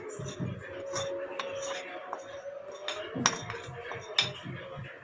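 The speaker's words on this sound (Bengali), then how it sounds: "এবার আমি এটাকে নেড়ে দুধটা মিশিয়ে দিব।" Milk heating in a pot on a stove, thickened with milk powder, is stirred with a utensil that clinks and scrapes against the pot in irregular taps over a low background hum.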